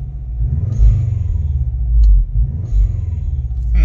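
Subaru Forester 2.0 S-Turbo engine revving up and down, close and loud, deep rumbling surges rising and falling in a few swells, with a brief click in between and no voices.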